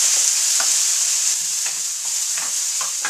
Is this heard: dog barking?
no